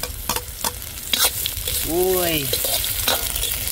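Ginger, garlic, onion and chili sizzle loudly in a hot frying pan, with stirring scrapes at the start and a voice exclaiming briefly over the frying.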